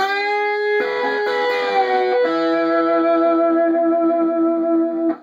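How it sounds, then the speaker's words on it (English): A twangy electric guitar plays a short country lick, bending strings and letting sustained notes ring out, clear and solo. "Very typical sort of country lick"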